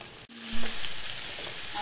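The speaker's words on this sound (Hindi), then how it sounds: "तो ऐसे हम चलाते हुए पम्पकिन को पकाएंगे।" Pumpkin (kaddu) pieces sizzling in a pan over high flame while being stirred, a steady frying hiss with a brief scraping stir near the start, close and moderately loud with no talking.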